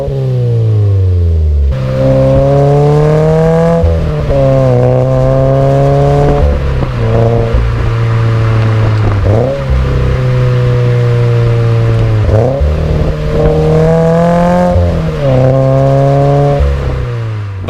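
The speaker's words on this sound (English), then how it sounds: "But doing just a normal acceleration like that, merging into traffic or getting on the highway, it definitely gets up to the speed." A 2019 Toyota 86 GT TRD Special Edition accelerates in ordinary driving, its engine and exhaust loud and close. The pitch climbs steadily and drops back at several gear changes, with no one speaking.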